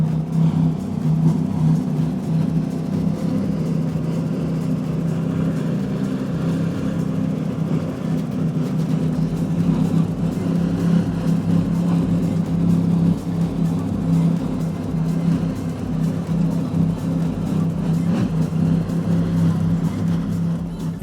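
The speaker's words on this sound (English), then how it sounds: "Let's listen to these Mercury Racing 1350s" Mercury Racing 1350 engines aboard a 48-foot MTI catamaran named Team Bugatti, a deep, steady, loud rumble held at a constant throttle throughout, close by with no talk.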